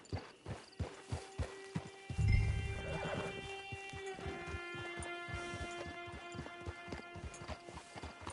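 Steady clip-clop of horse hooves at a walking pace in a PS4 video game, close and rhythmic, with a brief low rumble and a horse whinny near the start over a soft musical drone.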